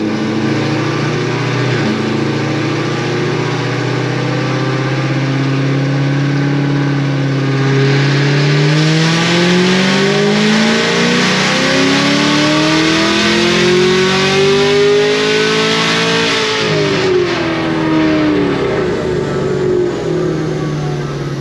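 A Stage 4 ZL1 pickup engine on a dyno runs a pull on pump gas, loud and steady throughout, its pitch climbing through a long sweep of revs and peaking near the end before easing off.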